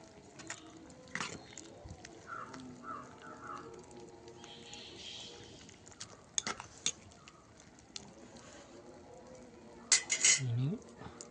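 A spice mixture with salt is stirred in a pot, giving soft scraping and occasional clinks of a spoon against metal, close but quiet, with a sharper clatter near the end.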